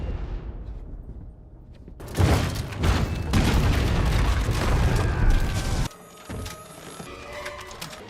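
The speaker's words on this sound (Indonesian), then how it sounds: "Ketika Jones akan digantung, tiba-tiba sebuah bom jatuh dan memungkinkannya untuk melarikan diri dari pasukan Jerman tersebut" A bomb explodes in a war film scene, a heavy sustained roar of blasts and rumbling debris that starts abruptly and runs loud for several seconds before cutting to quieter aftermath.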